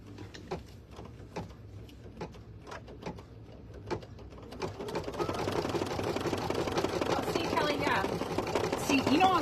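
A sewing machine stitches closed the small filling hole of an appliqué shaker design. Scattered light ticks come first, then a steady, rapid mechanical rattle builds and continues to the end.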